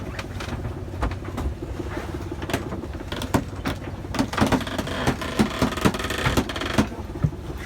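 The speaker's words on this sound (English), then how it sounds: "Can you winch it in a little bit more?" A winch is wound in over a railing, giving a run of close, irregular creaks and mechanical clicks that grow more frequent and louder toward the end.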